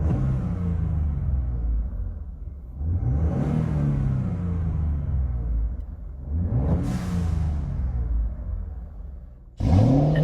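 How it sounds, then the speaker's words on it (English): Turbocharged Ford 2.7 EcoBoost fitted with a TurboSmart supersonic blow-off valve, heard from inside with the windows up: loud engine revs rise and fall three times, each ending in a sharp hissing valve release, with a final burst at the end. "We've got the TurboSmart supersonic blow-off valve installed."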